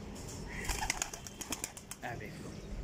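Desi pigeons flutter and flap their wings in quick bursts, with soft cooing mixed in at close range against a steady background hum.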